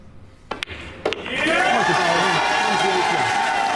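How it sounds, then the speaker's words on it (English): A crowd of Filipino pool fans at a US Open pool championship match erupts into loud, sustained cheering and shouting after a few sharp knocks, with voices swelling and holding strongly through the rest. "All the Filipino pool players that are still here are cheering their man on"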